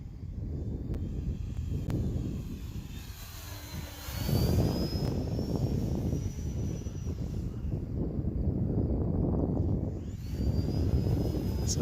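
E-flite Turbo Timber Evolution 1.5m RC plane with a new propeller flying outdoors, a steady droning motor whine that swells as it passes closer around four seconds and continues throughout, with no talking.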